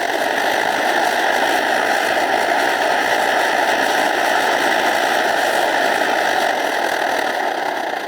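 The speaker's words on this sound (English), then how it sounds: "we'll open up our fuel valve and we got a cooking flame going." A liquid-fuel backpacking stove burns with its fuel valve opened to a cooking flame, giving off a loud, steady, close roar that holds evenly throughout.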